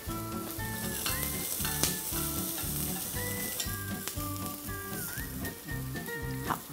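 Onions and garlic fry in a pot that was already used for an earlier step of a bean stew. A dense, steady sizzle crackles throughout, with irregular clinks and scraping from a utensil. No one speaks.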